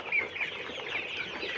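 Colour Bird broiler chickens, about 33 days old, cluck and chirp steadily in a poultry shed housing a flock of around two thousand birds. The sound is a soft, continuous layer of overlapping calls.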